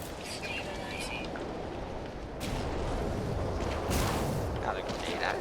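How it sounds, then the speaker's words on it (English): A grenade explodes at close range in the video game No Man's Sky, with loud broadband blasts that swell in over a dense, rumbling roar. "Now that grenade explosion is actually pretty cool when it's right in your face."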